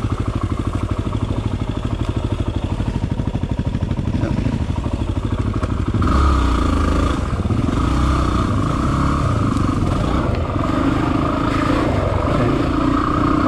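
A motorcycle rides through mud, its engine chugging loudly and steadily up close, with the tone shifting and revving unevenly partway through as the bike slips and labors over the terrain.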